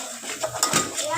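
A spoon scrapes and clinks against a metal pot while masala is stirred, giving quick close metallic knocks and swishes with a voice speaking faintly underneath.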